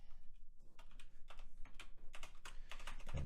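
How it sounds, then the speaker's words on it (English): Fingers type on a computer keyboard while JavaScript array code is written, a close, uneven run of quick clicks and key taps with short pauses, continuous over a low background hum, with no voice. "I cannot type this morning"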